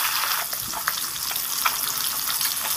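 Bata fish, turned over in a pan of oil, fry with a steady bright sizzle and small scattered pops, loud and close.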